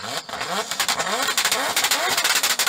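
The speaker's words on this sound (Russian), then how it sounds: "твой дрифткар с мотором 2JZ будет звучать куда лучше этого" A drift car's 2JZ engine revs hard in rapid, rising bursts, with crackling pops between throttle blips; a voice is heard alongside the loud mechanical roar.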